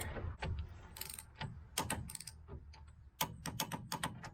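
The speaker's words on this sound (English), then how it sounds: "our bottom ball joint gets torqued first, just to 37 foot-pounds" A torque wrench clicks and ratchets while tightening the bottom ball joint on a Ram 2500 diesel 4x4 truck, a series of sharp close metallic clicks in irregular bursts with brief pauses between them.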